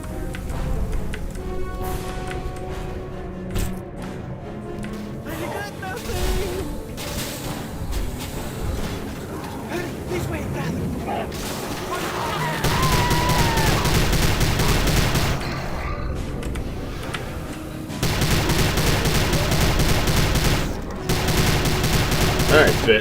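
Rifle fire in a video game comes in rapid bursts and sustained volleys, loud and close, between quieter stretches where someone talks.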